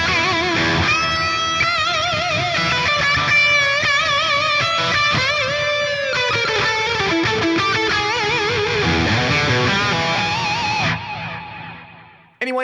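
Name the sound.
distorted electric guitar lead tone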